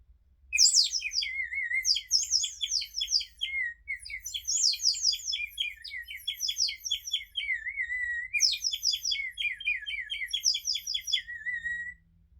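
A ceramic whistle filled with a little water imitates songbirds, giving bright warbling trills in three repeated phrases, each ending in a lower note, clear and close with no talking.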